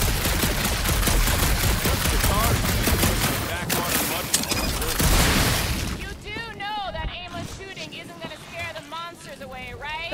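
Rapid gunfire in Marvel's Guardians of the Galaxy, a loud dense volley of overlapping shots for several seconds that then gives way to characters talking.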